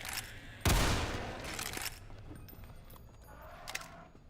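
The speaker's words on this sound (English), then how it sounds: "Oh, that was a flashbang." A flashbang grenade detonating in a Half-Life mod game: a single sharp, loud bang that rings out and then decays into a fading rumble, followed by fainter clicks and small thuds.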